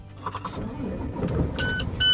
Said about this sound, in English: I start the engine to show it to her.